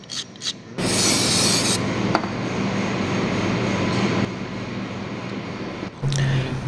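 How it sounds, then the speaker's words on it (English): Fine sandpaper rubbing the edge of a hydraulic pump vane from a vane cartridge pump, a steady, close, loud rasping scrape that runs for several seconds with brief pauses, no talking over it. "We will just smooth out the edges with some fine sandpaper"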